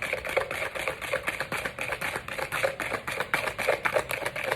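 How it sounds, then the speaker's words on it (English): Eggs being whisked with a hand whisk in a bowl, a steady run of quick rhythmic clicking and scraping strokes, fairly close and moderately loud, with no talking. "Actually, I might use my whisk."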